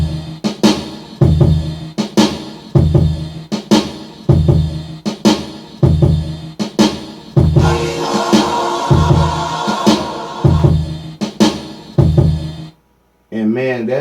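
Hip hop beat built from the Ghetto Gospel 3 sample kit in Maschine, with punchy rhythmic drums and a simple repeating pattern; a denser layered section sits in the middle before the loop cuts off briefly near the end.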